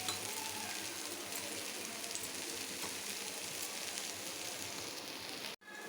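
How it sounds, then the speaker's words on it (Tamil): Adai sizzles steadily in hot oil on a pan, a close, even crackling hiss that runs throughout. The sound cuts out abruptly for a moment near the end. "போட்டுட்டு திருப்பி கொஞ்சம் எண்ணெய் விடணும், அப்போ தான் அந்த பக்கமும் மொறுன்னு வேகும்."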